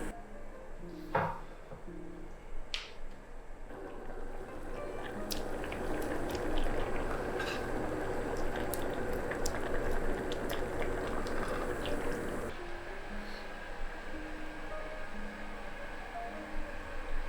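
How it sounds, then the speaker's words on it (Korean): Yukgaejang simmering in a pot with bracken, mushrooms and beef shank, a steady soft bubbling and hiss with a few light clinks, close and without talk. "남은 고사리와 버섯, 사태를 모두 넣고 5분간만 더 끓여주자."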